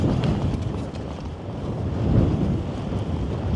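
Wind buffets the microphone in a steady, rumbling roar during an outdoor solar bike tour near Panevėžys, Lithuania, swelling slightly midway with no voices.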